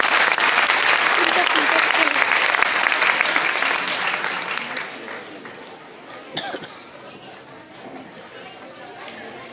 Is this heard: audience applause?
yes